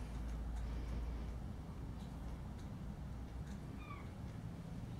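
Two domestic cats meow in a home, with a couple of brief, fairly faint meows near the end over a steady low background rumble.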